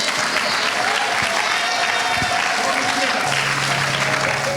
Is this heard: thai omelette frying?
no